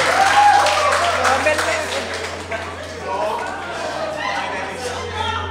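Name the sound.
audience applause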